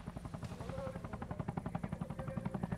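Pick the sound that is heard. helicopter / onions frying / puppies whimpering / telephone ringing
helicopter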